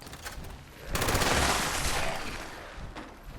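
A TSE LMG machine gun fires in the video game Fallout 76, a dense rapid burst of shots rolling together into one loud, continuous rattle.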